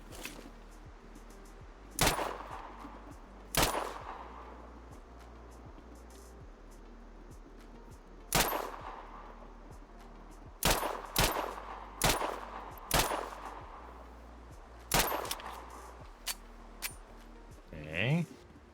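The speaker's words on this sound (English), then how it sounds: "A pistol." Pistol gunfire in the video game Sniper Ghost Warrior: a series of sharp, loud single shots spaced irregularly, some coming in quick pairs, with steady low background ambience.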